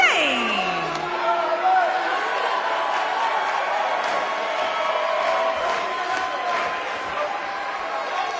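A big arena crowd in the WWE 2K19 wrestling video game roars and cheers steadily throughout, a dense, sustained wall of noise with no break.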